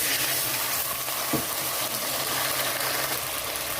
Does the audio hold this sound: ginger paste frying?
yes